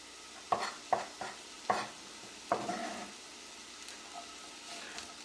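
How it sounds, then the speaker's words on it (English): Onions stirred in a pan over low heat for a plantain frittata, giving four or five distinct scraping stir strokes with a soft sizzle between them, then quieter low simmering with no voices. "I'm going to turn my heat down to low now, and right away I'm going to start with softening up all the ingredients"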